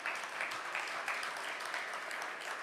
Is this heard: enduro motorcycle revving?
no